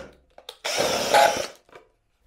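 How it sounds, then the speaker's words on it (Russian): A power tool, likely a drill, bores a hole through a plastic bottle in one sustained whirring burst of about a second, preceded and followed by a few small handling clicks. "И здесь сейчас сделаем тоже просто отверстие для того,"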